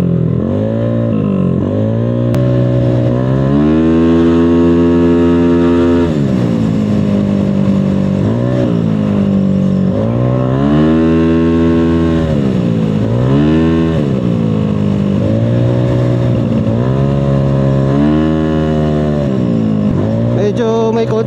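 Yamaha Aerox 232cc scooter ridden at full throttle down a straight road, its engine loud and close, revving up through repeated rising surges and brief dips over about twenty seconds with no talking.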